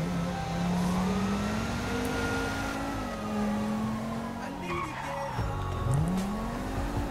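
A car engine runs in the video game GTA V, its tone rising and falling continuously, with tire squeal and skidding in the mix and no pause.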